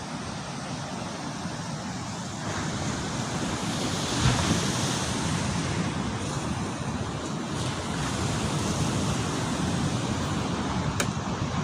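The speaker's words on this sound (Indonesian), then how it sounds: "Temen denger ya itu ombaknya." Ocean waves washing steadily onto the shore at a night beach campsite, a loud, continuous roar of surf mixed with wind rushing over the microphone, no distinct breaks between swells.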